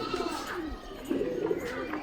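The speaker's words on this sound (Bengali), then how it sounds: "পায়রাটা উড়ে গেছে" A pigeon coos in soft, low, repeated phrases close by, with a faint, indistinct voice in the background and steady outdoor noise throughout.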